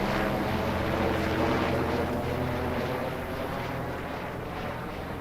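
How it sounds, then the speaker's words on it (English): A helicopter passes overhead in Farming Simulator 22, a steady, loud rotor and engine roar that fills the whole stretch with a broad rumbling wash, fading slightly toward the end. "A helicopter just went over."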